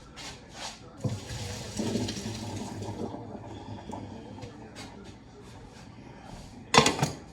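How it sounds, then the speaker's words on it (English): Cooked pasta water is poured off into a sink, a soft splashing rush rising in the middle and fading, then a brief louder clatter at the end, all close by and without speech. "So my pasta is done. So now I'm going to drain it."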